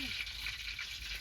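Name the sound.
green chilies frying in oil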